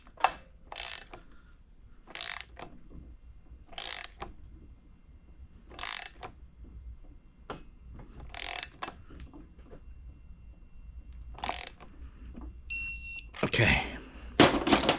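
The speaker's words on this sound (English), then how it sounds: "I'm going to tighten the flywheel nut 60 Newton meters" Torque wrench ratcheting on the flywheel nut of a Vespa Rally 200 engine held by a holding tool, short bursts of close clicking at a steady interval, ending with a sharp beep and louder clatter.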